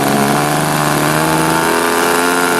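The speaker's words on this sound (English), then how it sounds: "That whole engine runs good." A small high-revving engine on a 60-size model biplane drones loudly and steadily, a buzzing whine with no pauses, close and continuous.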